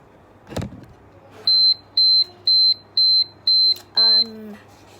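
A timer goes off at the end of a 15-minute reading session with six loud, evenly spaced high electronic beeps, each about a quarter second long, following a brief knock.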